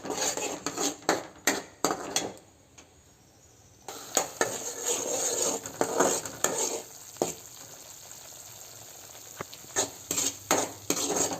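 Radish halwa is stirred in a pan with a utensil, bursts of scraping and clinking against the metal over a soft sizzle, pausing briefly before the rhythmic stirring resumes, no voices.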